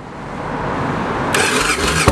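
A 2009 Victory Kingpin cruiser motorcycle with an aftermarket exhaust cranks and catches at once, then settles into a steady, loud idle close by.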